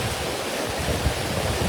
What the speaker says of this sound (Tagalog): kusog pa kayong ulan guys